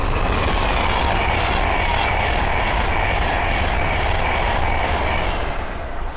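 A Class 390 Pendolino on a Manchester Piccadilly to London Euston service rushes past at speed on the West Coast Main Line at Linslade, a loud continuous roar close to the track that eases slightly at the end.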